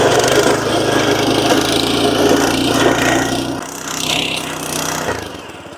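A new garden tiller machine churns through weeds and rubbish in a garden plot, a loud, close, continuous engine drone with grinding, scraping clatter that dips in intensity partway through.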